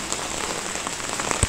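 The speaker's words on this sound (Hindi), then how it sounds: "शाम के 4:30 हो चुके हैं और बारिश स्टार्ट हो चुकी है." Light rain falls on the courtyard of a village house, a steady close patter of drops on wet ground, with a single louder drip near the end and no talk.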